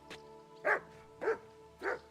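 A dog in the video game Kingdom Come Deliverance 2 gives three short barks at an even pace, each clear and fairly close, with no talk.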